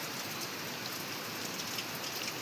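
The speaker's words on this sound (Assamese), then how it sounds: "বৰষুণ চাওক না গাইজ, কি ধুনীয়া বৰষুণ দি আছে" Steady rain falling near Guptkashi on the Kedarnath route, a dense continuous hiss of drops on surfaces with no voices and no thunder.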